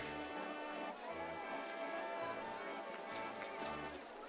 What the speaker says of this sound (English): Perfect. Rain.